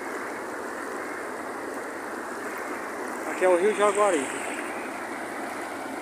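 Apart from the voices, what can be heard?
river water flowing at a dam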